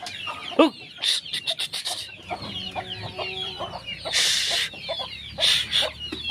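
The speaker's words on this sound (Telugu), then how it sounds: "ఇది మన కోళ్ళు" Several chickens cluck and squawk close by in quick, uneven bursts, with some higher calls mixed in.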